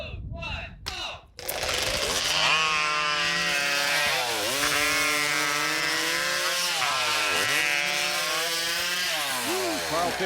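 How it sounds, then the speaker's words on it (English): A hot saw, a modified high-powered chainsaw, screams through wood in a 1998 timbersports race in Memphis, Tennessee, after a brief burst of crowd noise and announcer talk; the loud, sustained engine whine rises and dips as the cut bogs and clears. "Jason's also qualified in the hot saw, and he'll be sawing the next to last heat"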